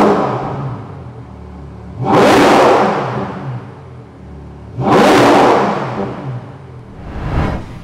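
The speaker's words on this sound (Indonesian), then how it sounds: "Kita dengerin suara V12 dari Ferrari Purosangue." A Ferrari Purosangue V12 with quad exhaust revs hard three times, each loud rising blast sweeping up then falling back to a throaty idle, the last burst shorter and lighter.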